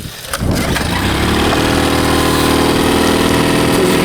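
A Mercury outboard motor with a bad fuel pump catches and runs on choke, a loud steady close-up engine drone that starts after a brief sputter and holds evenly throughout.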